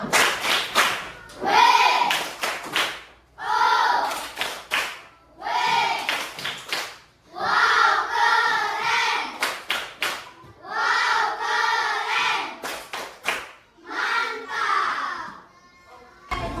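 Classroom children perform a rhythmic clapping cheer, loud bursts of claps in patterned groups repeated about seven times, with short pauses between rounds and children's voices joining in.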